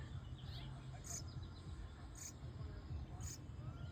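Baby house finches in a nest give faint, high, thin peeps, three short calls spaced about a second apart over a quiet background.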